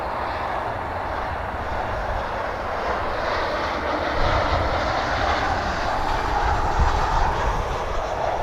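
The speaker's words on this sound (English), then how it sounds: "737-800 coming on in on runway 18 right" An American Airlines Boeing 737-800 landing on runway 18 right, a broad steady jet engine roar at a distance that swells slightly louder toward the end, with no talking.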